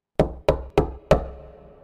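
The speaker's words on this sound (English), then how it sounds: "I took a big breath and I knocked on the door" Four firm knocks land on a wooden Dutch door, evenly spaced with a slightly longer pause before the last, each one sharp and close with a short hollow ring-out.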